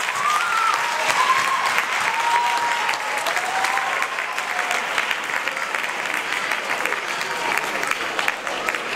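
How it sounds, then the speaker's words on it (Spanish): An awards ceremony audience breaks into loud, sustained applause, a dense wash of many hands clapping steadily for several seconds, with a few voices faintly audible over it. "Muchas gracias. Un fuerte aplauso."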